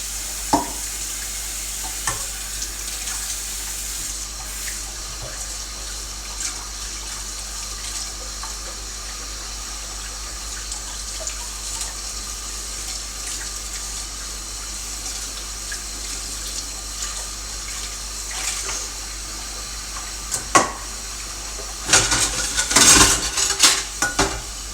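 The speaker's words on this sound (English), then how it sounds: "then put them in the sink, because it seems to do a lot better if you rinse off the dishes" Dishes being rinsed in a kitchen sink: water runs from the tap beside the clink of plates and cutlery, with louder clatter near the end and no speech.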